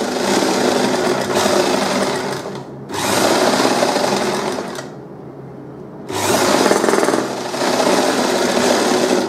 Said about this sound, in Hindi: ये देखिए मशीन में जब सिलाई करे इसी तरह बैक साइड बन जाएगा